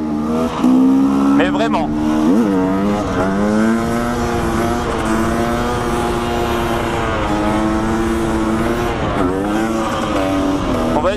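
An enduro motorcycle engine droning steadily while riding, loud and close with a couple of brief throttle surges; a rider speaks briefly over it.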